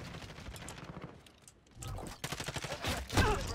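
Gunfire in the Modern Warfare video game rattles in rapid bursts of close shots. It briefly dips, then returns in dense volleys, with brief talk mixed in.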